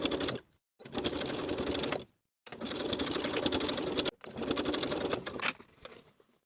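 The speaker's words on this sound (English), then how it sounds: "Baste the collar to the neckline with a 3/8 inch seam allowance." Sewing machine basting a tailored coat collar to the neckline at a 3/8 inch seam allowance, running in three steady bursts of close, even stitching separated by short pauses, with no talk.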